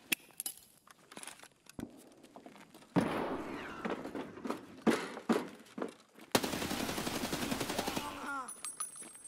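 Gunfire in Escape from Tarkov, sharp scattered shots early on giving way to rapid automatic bursts and a long sustained volley, loud and close with echoing tails.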